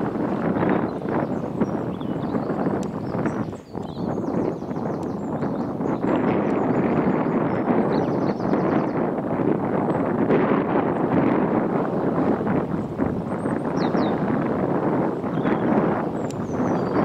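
Wind buffets the microphone outdoors, a loud, continuous rumbling roar that gusts unevenly for the whole stretch, with a brief dip partway through and no talk.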